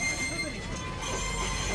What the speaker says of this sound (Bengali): এখানে যেহেতু অনেক টুরিস্ট আসে এটা দেখে, তাই কিন্তু তারা এই সময়টাতে ট্রেনের গতি খুব মানে একদম